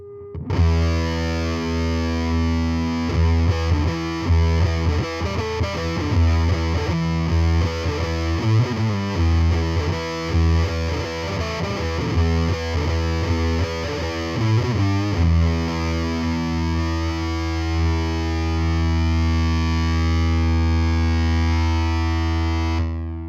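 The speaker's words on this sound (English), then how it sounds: "we have the fuzz maxed out and the tone turned down to about 830, which is basically just barely with any high end being added to the circuit" Electric guitar with humbucker pickups played through a Warm Audio Foxy Tone Box octave fuzz, fuzz maxed and tone turned low, giving a thick, buzzing, saturated line of played notes that ends in one long sustained ringing chord, loud and alone.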